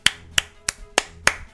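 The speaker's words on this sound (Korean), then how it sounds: "데빌맨님께도 박수 한 번씩 부탁드립니다" During a One Piece Burning Blood quarterfinal league broadcast, five sharp, close hand claps land at an even, steady pace with short gaps between them. No voices are heard.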